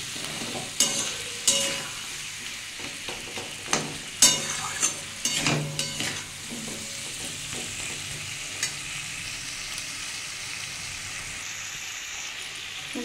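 Potato, eggplant and drumstick sautéing with dry spices and a splash of water in a pan for a rohu fish curry, with repeated scraping stirs over a steady sizzle that settles into a softer hiss.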